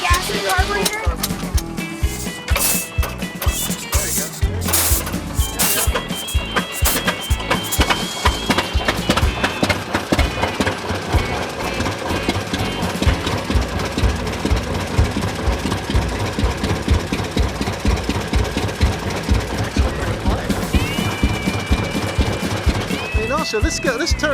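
A 1922 antique tractor engine at an outdoor tractor show starts up and keeps running with a loud, rhythmic knocking chug and clattering mechanical beats, while people talk over it.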